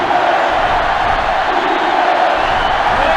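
A sellout stadium crowd roars steadily in the college football game NCAA Football 07, a loud, dense wall of cheering with no breaks.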